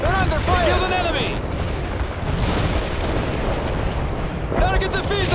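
Gunfire and explosions in the World in Conflict strategy game, an insurgents mission, with dense continuous booms and rattling fire under brief radio-style voice calls from units.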